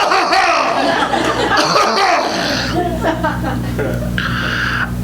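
A single sharp cough near the microphone comes in the middle of spoken words, followed by a brief chuckle.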